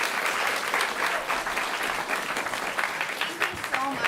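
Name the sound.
audience applause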